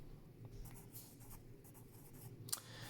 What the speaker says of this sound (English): so bear with my messy sketching.